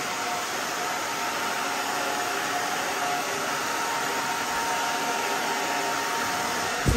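A hair dryer blows steadily and loudly throughout while drying a clippered pixie cut, a constant close roar with no pauses and no talking.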